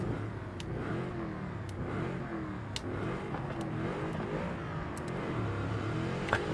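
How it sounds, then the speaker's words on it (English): Car engine revving in Forza Horizon 5 from the in-car view of a drag-tire build, a steady mid-pitched drone that rises and falls in pitch, with no talk over it. "In car, this engine sounds so good."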